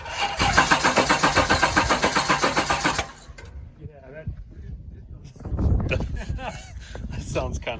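A 1972 Chevrolet Camaro with a very weak battery cranks loudly in a fast rhythmic churn for about three seconds, then catches and runs roughly; people talk in the background.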